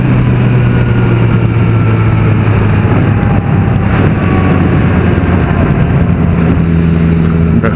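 A Honda Fireblade's engine drones loudly and continuously during a ride, a steady low hum with wind rush and a slight rise in pitch toward the end, no voices.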